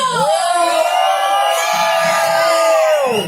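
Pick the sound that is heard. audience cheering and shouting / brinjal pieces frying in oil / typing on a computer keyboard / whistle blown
audience cheering and shouting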